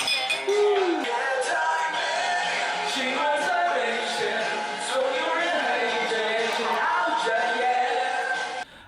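Glasses clink together in a toast at a lively gathering, several bright chinks among crowd chatter and voices.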